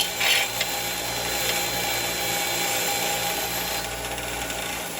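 Rotary tool or wire brush cleaning RTV sealant from engine bolt threads during oil pan repair: a continuous high, buzzing whir, close and steady, with a brief sharper scrape at the start.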